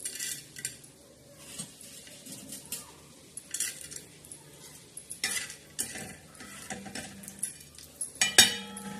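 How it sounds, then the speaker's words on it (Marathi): Lentils roasting in a pan for a fish curry with black masala, stirred with a metal spoon that clinks and scrapes in irregular close strokes, with a few sharper knocks near the end and no voices. "डाळ बी भाजून घेणार आहोत"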